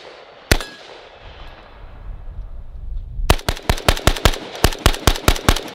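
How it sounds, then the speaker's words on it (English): Shots from a C39 AK-47 rifle fitted with an Occam Defense mount: a single loud crack, a few seconds of rumbling quiet, then a rapid string of about a dozen sharp outdoor reports. "we were shooting this C39 with the Occam Defense mount"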